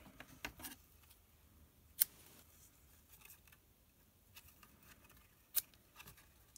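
Scissors snipping paper to trim a handmade gift bag, a few sharp separate cuts at about 2 and 5.5 seconds, with quieter handling rustle between them, fairly close and soft overall.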